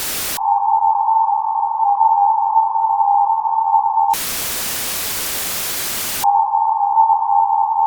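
White noise is filtered down to a narrow band around 1,000 Hz, giving a steady tonal hiss that cuts abruptly to full broadband noise for about two seconds and then returns to the narrow band.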